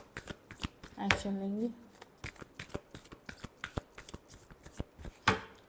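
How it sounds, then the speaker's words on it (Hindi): Tarot cards are shuffled by hand at close range, a quick series of sharp riffling clicks and snaps, while a voice briefly speaks partway through. "Last shuffle."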